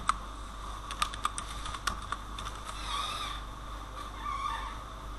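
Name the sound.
typing a project name on a computer keyboard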